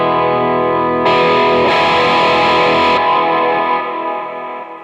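Clean electric guitar through a Klon-style boost pedal modelled on a Quad Cortex rings out as sustained chords, with a brighter strummed burst in the middle before it decays and fades, and no voices.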